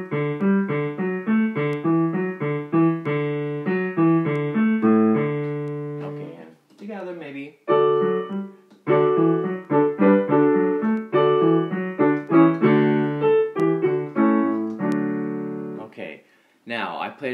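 A keyboard plays a steady low bass line under sustained chords, in a moderate rhythm with a couple of brief pauses.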